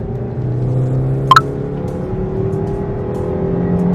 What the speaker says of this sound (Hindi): लिटरली 6000 आरपीएम तक ये इंजन ड्राइव होता है